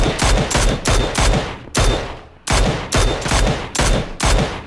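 Gunfire in a shooting video game, loud bursts of rapid automatic shots in about eight quick clusters separated by short gaps, close and punchy with no talking.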